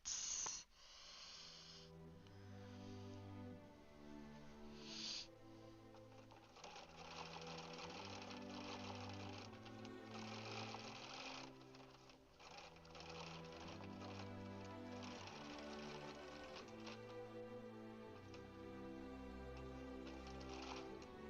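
A Bernina 790 Pro sewing machine quilts with a close, steady motorized whir that changes pitch as its speed shifts, with brief stops near the start.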